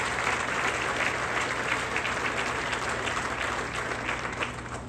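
Steady, dense applause from a large crowd at the VinFast electric car factory groundbreaking ceremony, loud and continuous for the full stretch, with no voices on top.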